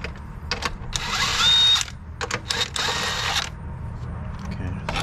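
A power tool, likely an impact driver or drill, breaks loose engine mount bolts on a Jeep Renegade in short bursts of whirring and rattling, the longest around one second, close and fairly loud with a workshop background between bursts.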